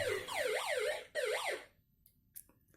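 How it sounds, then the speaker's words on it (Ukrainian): A homemade door alarm siren wails in rising and falling sweeps, loud and close, cutting off briefly and then sounding once more before stopping, followed by a few faint clicks. "А коли двері відчиняються, спрацьовує сирена."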